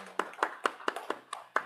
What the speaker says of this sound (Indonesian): Tepuk tangan untuk Ustadz Yusron